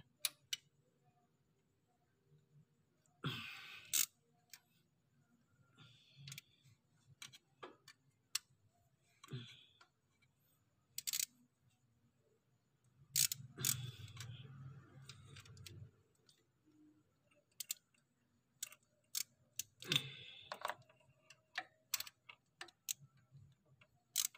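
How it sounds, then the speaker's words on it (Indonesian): 10 mm bolts being loosened by hand on a diesel Mitsubishi Strada Triton or Pajero Sport engine at night: scattered sharp ratcheting clicks and knocks come in short bursts separated by quiet gaps. "Jadi kita kendorkan dulu untuk bagian baut sepuluhnya ya."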